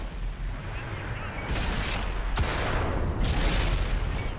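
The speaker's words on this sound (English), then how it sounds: "I'm shooting APCR with the incredibly terrible rate of fire." Maus heavy tank main gun in World of Tanks firing an APCR round, with two heavy booming blasts about a second apart rising over a constant low battle rumble, both loud and near.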